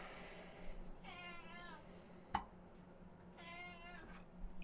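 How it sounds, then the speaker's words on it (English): A house cat meows twice during a live stream, two drawn-out moderately faint cries about two seconds apart, with a single sharp click between them over a quiet room hum. "Is that your cat?"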